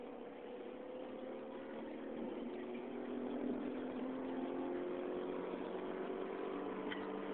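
A 2007 Dodge Nitro pulling hard uphill during a 0 to 100 acceleration run in second gear, its engine drone rising steadily in pitch and growing slightly louder, heard from inside the cabin with no talking.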